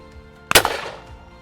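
A single sharp shotgun blast at a FITASC clay target rings out outdoors, a loud close crack followed by a decaying rolling echo, with no talking.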